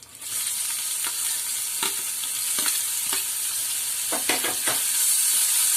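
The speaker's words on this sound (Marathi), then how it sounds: "कांदा चांगला लाल करून घ्यायचा आपण" Loud, steady sizzle of onions and garlic frying in a pan with a bay leaf, broken by several sharp scraping strokes of a spatula stirring.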